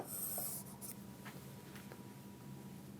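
A pen or marker writes an equation during a physics lesson, a soft scratching stroke up close followed by quiet rubbing, faint and alone.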